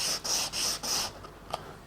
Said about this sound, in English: get a sanding block and just rub it gently on the sanding block